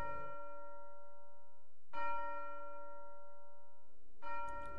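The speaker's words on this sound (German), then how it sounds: "Kirchenglocke oder Schuluhr oder Rathausuhr oder was auch immer, die Uhr ertönt" A clock bell chimes in the video game A Bird Story, three bright, ringing strikes spaced about two seconds apart, each decaying slowly into the next, with no voices present.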